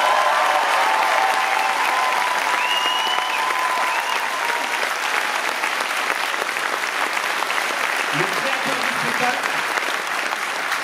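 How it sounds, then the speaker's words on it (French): An audience at a charity musical theatre show gives sustained, dense applause that stays loud throughout, with a few voices and a brief vocal sound rising over the clapping. "Encore un applaudissement."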